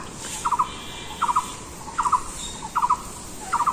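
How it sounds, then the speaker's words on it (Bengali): A bird in a quiet village repeats a short burst of three or four rapid squeaky notes about every three-quarters of a second, five bursts in all, fairly close over a low steady background. "আর কি সুন্দর পাখির ডাক"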